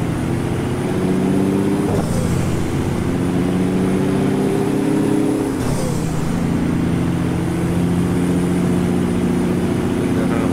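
A trailer truck hauling 80 tonnes in a driving game climbs uphill at night, its engine droning steadily and loudly with a low, even hum, dipping briefly as gears change twice.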